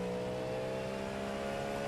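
Steady engine drone from inside a GTP hypercar in the Le Mans Ultimate racing game during the Daytona 24-hour race, held at a near-constant pitch throughout with no voices.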